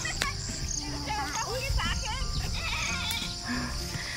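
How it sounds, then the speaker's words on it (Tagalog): Pet goats bleat repeatedly in short wavering calls on a rural homestead in Palawan, Philippines, with insects and people talking nearby. "Yung aming mga alagang kambing."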